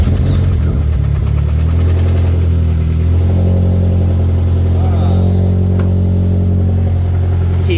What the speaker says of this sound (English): First start, motor swap.